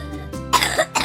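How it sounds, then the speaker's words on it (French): A couple of harsh, rattly wet coughs in quick succession, close and loud, with a rough, phlegmy texture. "et voici une toux grasse."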